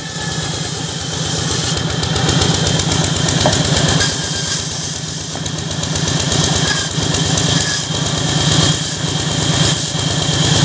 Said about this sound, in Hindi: ये है जी आरी मशीन।